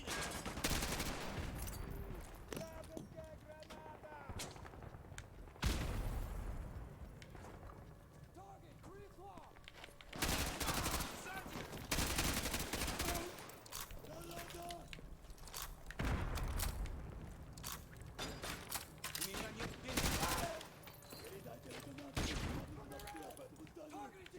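Gunfire in a Modern Warfare game, repeated bursts of automatic fire and single shots spaced through the match, loud and close, with someone talking over the action.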